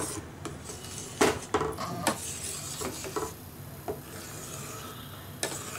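Spoon stirring milk in a metal pot while making custard ice cream, irregular scraping and clinking strokes against the pot, close and fairly loud, with no talk.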